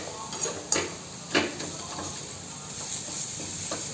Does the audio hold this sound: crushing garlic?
yes